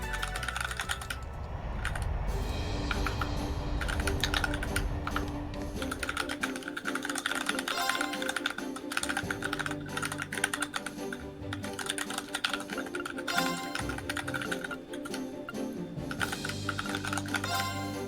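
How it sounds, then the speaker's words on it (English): Continuous computer keyboard typing runs throughout, steady and fairly close, layered over game music during a collaborative stream of Trails of Cold Steel II, with no talk. "I wonder what she's typing."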